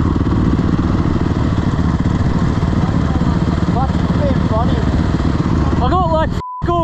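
A motorcycle on muddy forest tracks with a steady, loud engine drone throughout, and voices chattering over it near the end before a brief cutout.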